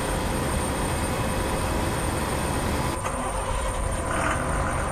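An APSRTC sleeper bus engine in a driving simulator drones steadily, then abruptly drops and thins out partway through as if stalling, leaving a quieter hum afterward.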